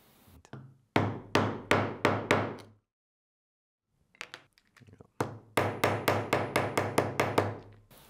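A hammer sets a press-stud rivet on a leather and Kydex knife sheath: a run of about seven sharp, close blows, a short pause, then a faster burst of around ten more strikes.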